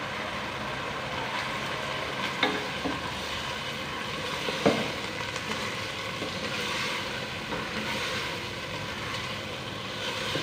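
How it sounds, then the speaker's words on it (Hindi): Garlic ginger paste fries in a hot pan for a Shinwari keema karahi, giving off a steady, close sizzling hiss with a few small pops. "चार से 5 मिनट के लिए भुनाई करेंगे।"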